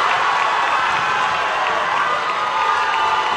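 Basketball crowd at a high school game erupting in sustained cheering and shouts after a slam dunk, a loud, dense roar that holds steady throughout.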